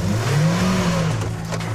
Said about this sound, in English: I'm gonna hit the gas really fast